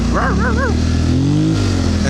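A dog gives three quick barks near the start, heard over the loud, steady drone of a Polaris quad engine that rises in pitch and then holds.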